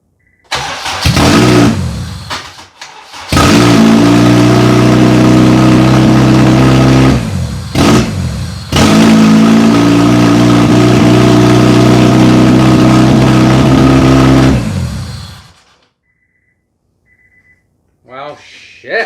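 A car with a K-swapped engine cranks, catches and runs loudly and close for several seconds, cuts out, then fires up again and runs before dying; voices talk briefly at the start and end.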